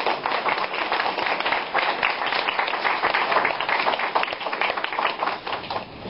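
An audience at an oil and charcoal art exhibition breaks into sustained applause, many hands clapping in a dense, steady patter that stays fairly loud throughout before easing slightly at the end.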